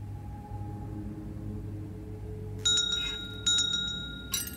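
A metallic bell in the puzzle game The Room 4: Old Sins rings in three bright, clear strikes with short gaps between them, over a quiet low ambient hum.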